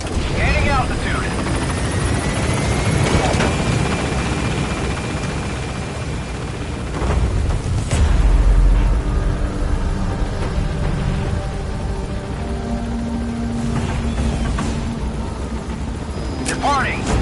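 A helicopter in the video game Metal Gear Solid V: The Phantom Pain lifts off with a loud, steady rotor thrum and engine whine that swells as it climbs, while a voice speaks over it.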